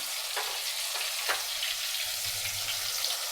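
Ginger garlic paste and tomatoes fry in a pan, giving a steady, close sizzle with a few soft stirring scrapes and a faint low hum, no voices.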